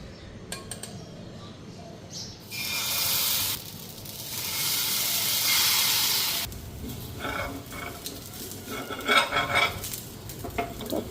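Batter frying in a small amount of oil in a pan, the oil spread with an eggplant stem; loud hissing sizzle swells in two long bursts, with light utensil clatter and scraping in between.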